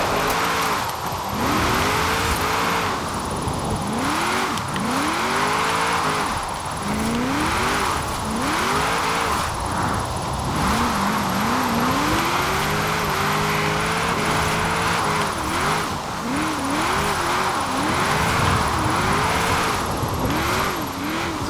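In Forza Horizon 4, a 1994 Nissan Fairlady Z Version S twin-turbo AWD drift build revs and drifts, its engine note rising and falling through repeated gear shifts over a steady high whine, loud and continuous without talk.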